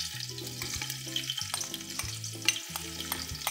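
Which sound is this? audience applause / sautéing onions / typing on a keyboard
sautéing onions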